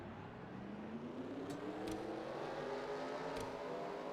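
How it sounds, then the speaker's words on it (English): Forty race car engines rumble together as the field rolls off behind the pace car in NASCAR Racing 2003, a steady dense drone with a few brief sharper bursts, no voices. "40 engines fired as they're getting ready to roll off."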